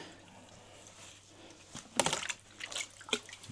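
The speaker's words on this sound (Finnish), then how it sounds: "Sitten otetaan kastelukannu ja ruvetaan vähän laittamaan vettä sinne." A watering can pours water into a barrel of seed potatoes in a greenhouse. It sounds like a soft trickle and splash that starts about halfway through, with uneven bursts of pouring and dripping. No one speaks.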